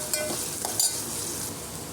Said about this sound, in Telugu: బాగా పచ్చి వాసన పోయే వరకు ఫ్రై చేసుకోవాలి